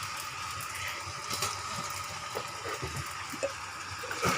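Water running over kuay teow noodles as they are washed, a continuous gushing splash with a few soft knocks, close and steady, with no talking.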